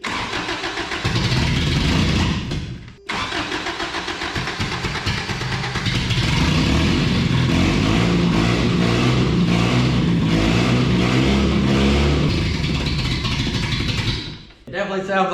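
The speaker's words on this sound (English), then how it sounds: "If I'm revving it, it seems to be running, but it ain't much for an idle." A 1993 Toyota Pickup with a fuel injection problem cranks and catches, then runs roughly and loudly as it is revved repeatedly in uneven bursts, cutting out briefly near the start and again at the end, with someone talking at times.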